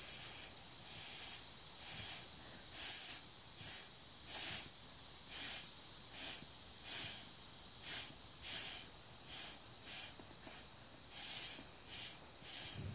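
Short breathy puffs of air blown through a straw across wet acrylic pouring paint on multi-media paper, about a dozen bursts in an uneven rhythm, close and hissy, with no talking.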